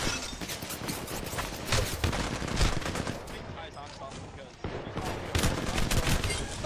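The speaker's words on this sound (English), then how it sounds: "I got shot in the back by Dylan!" Gunfire in a multiplayer shooter video game, rapid bursts of automatic shots and explosive cracks packed densely throughout, loud, with players talking over it.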